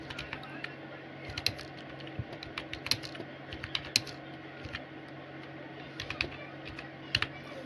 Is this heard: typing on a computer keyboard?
yes